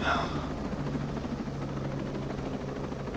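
Steady rotor drone of a helicopter in the military shooter game Ghost Recon Breakpoint, a continuous low hum filling the whole stretch with faint voice activity underneath.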